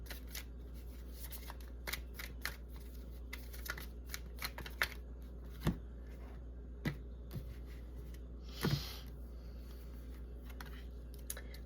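Tarot or oracle cards from a Green Witch Tarot deck are shuffled close by in a quiet room, with soft riffling broken by scattered sharp snaps and taps of the cards.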